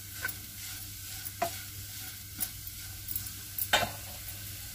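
Potatoes fry in a pan over very low heat, a steady soft sizzle broken by scrapes and clinks of a spoon as chili powder is stirred in, close and quiet with no talking.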